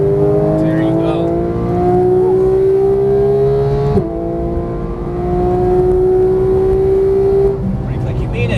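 A Porsche 911 GT accelerates hard on a race track at Exotic Racing Las Vegas. Its engine note climbs loudly, drops briefly at a gear change, then climbs again while an instructor talks over it.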